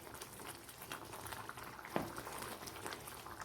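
Cherupazha pradhaman, a thick banana payasam, simmering in a pot: soft continuous bubbling and gentle popping at low volume, with one slightly louder plop partway through.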